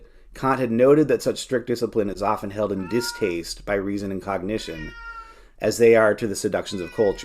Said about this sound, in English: I apologize for my cat there, who has a few things to say too